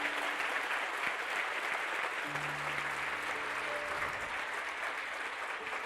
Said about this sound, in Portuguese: Poderia saudar ao Senhor Jesus novamente com uma salva de palmas.